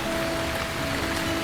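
Steady rain falling, a dense even patter that holds at constant loudness throughout with no voices over it.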